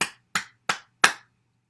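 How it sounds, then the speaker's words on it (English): Four sharp hand claps in an even rhythm, close and crisp against a quiet background, with no voices. "Let's clap our hands to stimulate the heart"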